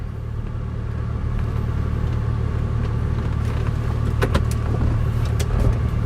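Steady car interior drone while driving with the air conditioning running, a constant low engine rumble and broadband fan hiss throughout, with faint ticks and clicks near the end.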